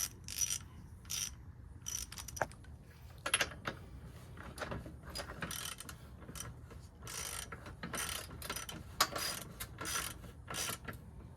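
Mechanical clicking and ratcheting from tightening the rear axle chain adjuster on a 2021 Yamaha MT-03 motorcycle, close and moderately loud, a steady run of repeated clicks and scraping metal strokes with no talk.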